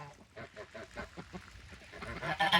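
Geese honk on a homestead: a quick run of nasal honks and squawks, fairly close and moderately loud, getting busier and louder toward the end.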